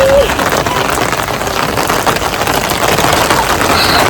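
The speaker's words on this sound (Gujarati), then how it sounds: "ફાઇનલી વરસાદનું આગમન થયું મસ્તીનો વરસાદ" Steady heavy rain pours onto a road in Kutiyana, a dense, continuous hiss that stays loud and close throughout with no clear breaks.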